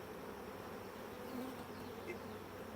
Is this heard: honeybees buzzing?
yes